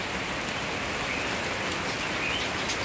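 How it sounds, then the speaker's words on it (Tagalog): Steady rain falls on a rainy morning in the Netherlands, a dense, constant hiss of drops striking surfaces that fills the whole moment, with faint hints of birds in the background and no talking. "Kasi maulan, mababasa ako."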